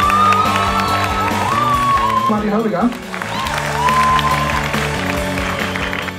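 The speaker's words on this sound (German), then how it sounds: "Einen wunderbaren Applaus für den wunderbaren Schauspieler Elias Mbarek" Audience at a film premiere bursts into loud, sustained applause and cheering, with an announcer speaking over the clapping throughout.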